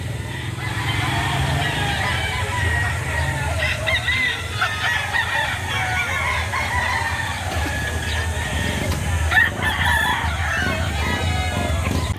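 Chickens and roosters crow and cluck over and over amid steady market bustle at a poultry sale behind SM Lipa in Batangas, with overlapping calls near and far and no talk.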